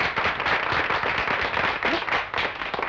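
A group of people claps in dense, continuous applause that stays fairly loud and even throughout.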